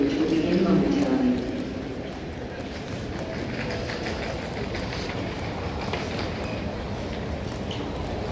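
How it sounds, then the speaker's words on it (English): An Amtrak Northeast Regional train from Boston approaching a platform at Pennsylvania Station, with a steady rumbling roll and clatter of wheels lasting throughout, loud and close, and a voice briefly heard at the start. "Amtrak Northeast Regional Train 93 from Boston continuing to Milford is now approaching the station."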